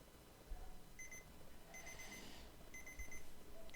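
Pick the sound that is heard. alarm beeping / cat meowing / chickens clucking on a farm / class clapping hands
alarm beeping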